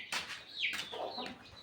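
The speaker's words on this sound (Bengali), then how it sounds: "সব মুরগিগুলো ঠিকই আছে," Backyard hens cluck close by in a short run of sharp, rising calls, with no talk over them.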